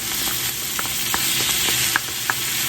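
Butter goes into a pan of caramelizing Brussels sprouts, giving a steady close-up sizzle and fry with small scattered pops and crackles, and no talking.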